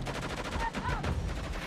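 Rapid automatic gunfire in Uncharted 4 multiplayer rattles in quick repeated bursts at moderate loudness, spread across the short stretch.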